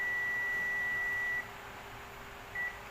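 A multimeter sounds a continuity beep while testing a transistor on a 150-watt OCL power amplifier: a steady high-pitched tone holds for over a second, then a brief second beep follows after a pause, with no speech.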